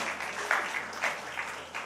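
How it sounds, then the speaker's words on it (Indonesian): Church audience applauding at an Indonesian worship service: soft, steady clapping from a crowd heard at a moderate distance, with slight swells in intensity and no speech over it. "Berikan tepuk tangan buat Tuhan kita."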